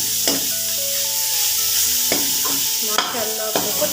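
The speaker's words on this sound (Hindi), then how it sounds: "इसके बाद हमने सब्ज़ी डाल देनी है। तो इसको तकरीबन हमने 5 मिनट भूनना है।" Vegetables frying for homemade bhujia in a pan, a continuous hissing sizzle broken by several sharp scraping strokes of a spoon stirring against the metal, close and loud.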